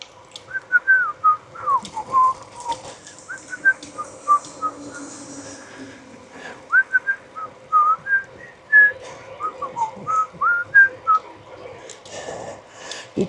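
Someone on a trail whistles a tune in short, lilting phrases, moderately close, with faint ambient noise and brief pauses between notes.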